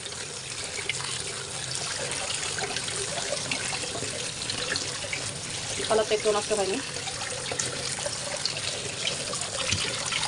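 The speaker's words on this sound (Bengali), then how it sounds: "দেখেন আমি এটাকে আবার কলের নিচে রাখবো।" Tap water runs steadily over boiled cabbage in a home kitchen, a soft continuous splash with a brief louder gush midway, while someone talks over it.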